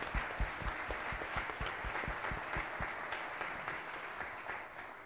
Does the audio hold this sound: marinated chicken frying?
no